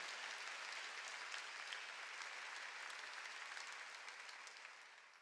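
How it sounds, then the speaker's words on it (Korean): A church congregation applauds during a Sunday worship service, steady dense clapping from many hands that holds evenly throughout and tapers slightly toward the end. "박수로 하나님께 영광을"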